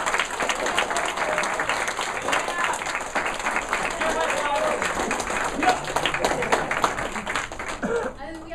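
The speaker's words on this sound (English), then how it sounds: "So a round of applause for Johan Snyder." An audience claps steadily at an awards ceremony, a dense continuous applause with individual claps audible nearby, tapering off at the end as a voice starts speaking.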